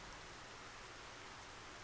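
Steady rain falls in Xenoblade Chronicles: Future Connected, a soft, even hiss of drops that continues without a break and stays faint and low in the mix.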